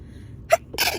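Two sneezes from a person indoors, the first short and sharp, the second louder and fuller a moment later, both close and alone over quiet room noise.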